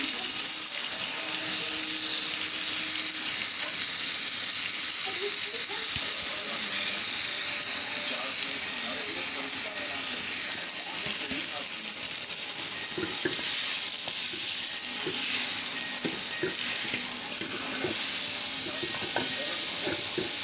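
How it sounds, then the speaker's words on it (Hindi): Onion fries in hot ghee with a constant close sizzle, and a busy scraping, ratcheting stir clatters on top of it throughout, with no pauses. "ये घी हमारा गरम हो रहा है। अब हम इसमें प्याज डाल रहे हैं।"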